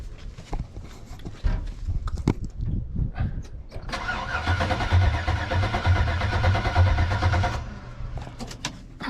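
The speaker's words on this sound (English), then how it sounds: "let me see if I can't let y'all hear this thing turn over." Chevrolet C10 pickup truck with a swapped 5.3 LS V8 cranking over, a close, rapid rhythmic starter churn for several seconds that does not fire, after some clicks and rattling.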